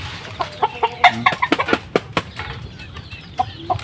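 Pet chickens cluck and flap their wings in a coop, with bursts of wing beats and scattered close clucks, fairly loud and without speech.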